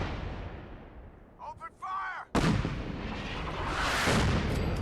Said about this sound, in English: I intentionally fired a non-silenced weapon just to attract them towards the artillery barrage